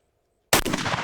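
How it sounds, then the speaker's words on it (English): A single loud pistol shot, fired from a handgun fitted with a UUQ Eagle C28 SRO-style red dot sight at a 15-yard target, cracks abruptly after silence and rings out briefly. "I'm just gonna shoot at the 15-yard target."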